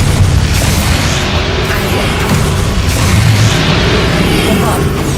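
Bombarda spell explosions in a wizarding video game, a dense continuous roar of booming blasts and crashing debris filling the whole stretch, loud and unbroken.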